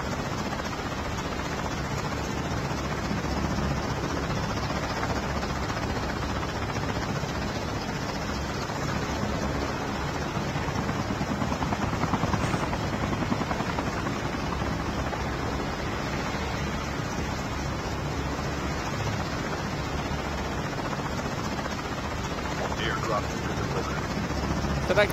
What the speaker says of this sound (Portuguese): Cadê esse helicóptero? Subiu.